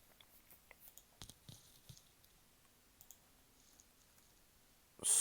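Sparse, quiet key clicks from a computer keyboard as a system restart command is entered, light scattered taps at an irregular pace, then a sudden loud burst at the very end.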